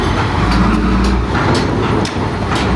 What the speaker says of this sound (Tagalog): Nagdaanan yung mga truck, yung maingay.